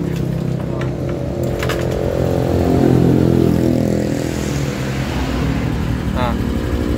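A car engine idles with a steady low rumble during a check for a leaking head gasket spraying radiator coolant, with someone speaking over it and a brief metallic clink.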